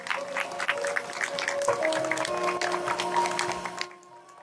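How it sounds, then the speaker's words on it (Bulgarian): Crowd applause at a motocross award ceremony in Petrich, a steady burst of many hands clapping outdoors, fairly loud, with a music tone underneath, ending abruptly near four seconds. "Аплодисменти!"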